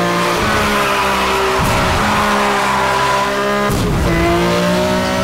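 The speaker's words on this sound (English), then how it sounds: "You gotta love the sound effects too, the backfired exhaust, the nitrous, the revs." A Porsche GT2 RS in the racing game Need for Speed Hot Pursuit Remastered roars loudly and continuously, its flat-six engine pitch rising and dropping at gear shifts, with tire squeal mixed in.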